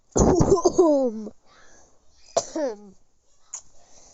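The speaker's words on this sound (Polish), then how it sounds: "Może mi przestać kaszleć?" A person gives a hard, harsh cough that is loud and close, followed by a second shorter burst and a faint third sound near the end.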